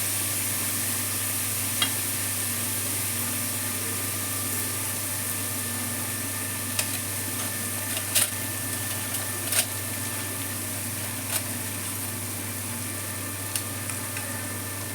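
Green chillies frying in a pan while making coriander rice give a steady close sizzle with a constant low hum underneath and a few faint clicks and stirs scattered through, with no voices.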